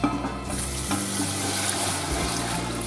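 Broth is poured and stirred into a sizzling roux in a pan for Dutch beef kroketten: a steady, close wash of bubbling, hissing and liquid sloshing with no talk.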